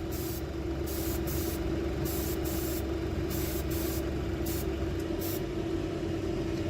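Airbrush spraying a light coat of fabric paint onto a spoon, a steady hiss of air and paint in short repeated bursts over a constant compressor hum, close and fairly loud.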